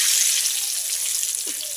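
Five-spice, dried chillies and bay leaves frying in hot oil for a Bengali duck curry, a close, steady crackling sizzle with a brief louder spit near the end, no speech.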